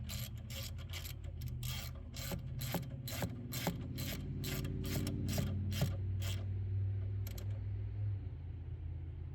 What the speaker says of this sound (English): Now you get this and you tighten this up.